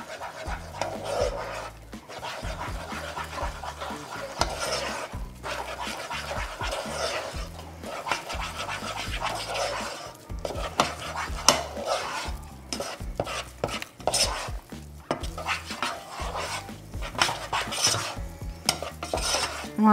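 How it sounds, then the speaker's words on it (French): Flour being stirred into choux pastry dough in a pan off the heat, a steady run of close, rhythmic scraping and sloshing strokes, quiet and continuous for twenty seconds, with no talk. "hors du feu, je vais mélanger ma farine"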